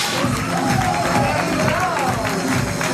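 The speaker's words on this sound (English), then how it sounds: "We can give you a hand clap" An audience claps and cheers at the launch of the Kenya Diaspora Investment Strategy, loud continuous applause mixed with crowd voices and cheering.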